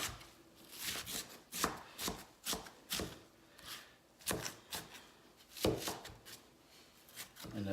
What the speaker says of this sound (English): Now this is just regular brown onion, but I got sweet onion cause this is gonna cook